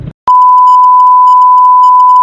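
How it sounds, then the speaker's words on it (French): A loud, steady electronic censor beep sounds at a single pitch after a brief moment of quiet, holding unbroken for about two seconds. "Je vais mettre un bip."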